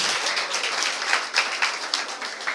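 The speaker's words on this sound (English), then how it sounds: "That applaud is very weak." Thin, scattered clapping from a church congregation at Fair Havens Christian Centre, a modest patter of hands with a few sharper individual claps standing out, fairly light overall.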